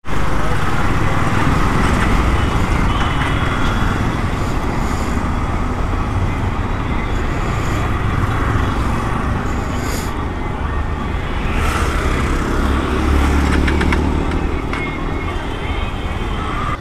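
A Hero XPulse 200 4V motorcycle engine runs steadily and loudly throughout, with a continuous drone and wind rush as the bike rides along a road.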